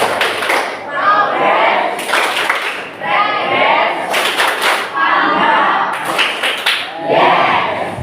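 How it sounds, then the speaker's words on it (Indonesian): An Indonesian sociology class does the 'tepuk dinamika perubahan' clapping game: rhythmic bursts of many hands clapping in time, with groups of claps separated by brief pauses, loud and close over the children's chanting voices. "Tepuk dinamika perubahan."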